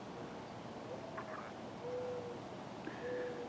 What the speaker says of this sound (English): I hear the doves talking over there.